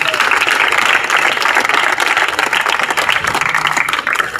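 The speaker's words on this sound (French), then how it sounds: "Applaudissons quand même pour nos frères qui nous rejoignent." Group applause at a sports evangelism session welcoming arriving brothers: a dense, continuous wash of many hands clapping, loud and steady throughout with crowd noise mixed in.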